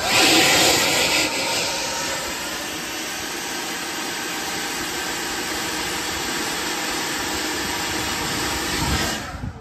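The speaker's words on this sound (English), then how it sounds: "I'm gonna show you the demo here with the blower and the basketball." A DeWalt battery-powered leaf blower runs in a basketball demo, giving a loud, steady rushing whoosh of air that holds constant for the whole stretch and then cuts off at the very end, with no talking.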